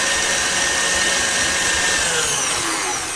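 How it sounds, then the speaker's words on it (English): An electric mixer whisks passion fruit cake batter with coconut on high speed, a loud, steady motor whine with a continuous buzzing drone that holds constant throughout, with no voices. "Whisk again on high."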